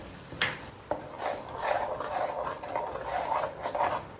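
A ground mint and curry leaf paste being stirred in a pan, giving soft close scraping and sizzling strokes with two sharp clinks of the utensil on the pan early on, steady and moderately quiet.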